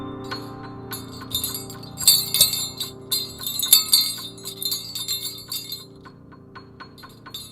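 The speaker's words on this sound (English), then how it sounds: "I forgot I had those little sleigh bells until I got to that lyric in the song" Small sleigh bells jingle in bright clustered bursts, shaken in uneven rhythm close by, with soft tones lingering beneath after a Christmas song.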